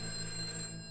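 A telephone rings in the video game A Way Out, a steady electronic tone that fills the brief moment without any voices.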